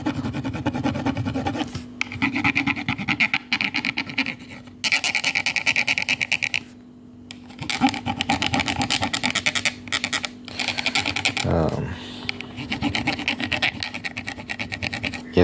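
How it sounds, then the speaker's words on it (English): Fast, aggressive scratching and rubbing close to the microphone in scalp-scratching ASMR, loud bursts with brief pauses, a steady low hum underneath and one short break of near silence. "Make sure that I scratch every inch of your scalp."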